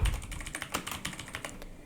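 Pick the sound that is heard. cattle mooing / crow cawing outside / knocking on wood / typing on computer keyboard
typing on computer keyboard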